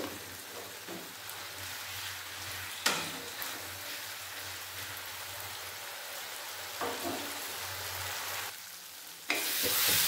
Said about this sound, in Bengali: টমেটো ভালোভাবে ভেজে নেব